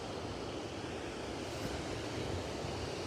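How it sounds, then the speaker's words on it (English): The Lower Falls on the Genesee River in Rochester, NY, send up a steady, broad roar of falling water, constant and unbroken throughout with no voices. "massive wall of water falling, hence falls."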